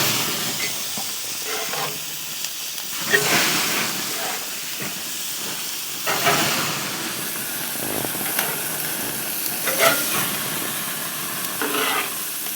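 Burger patties sizzling on a cooker over a small wood fire, a continuous close hiss and crackle with occasional louder bursts of steam and pops, no one talking.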